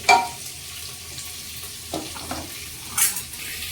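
Sliced onion and green chillies frying in a pan for mushroom biryani, a steady soft sizzle with a few stirring scrapes and clinks, close by and without talk.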